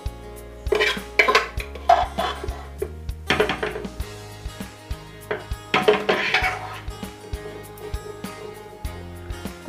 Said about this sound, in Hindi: अब इसके अंदर हम सारे दाल को पलट लेंगे